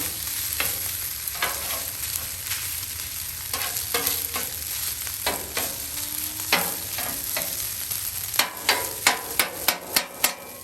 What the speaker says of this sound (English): Sorry about the banging, that's just part of my spatula.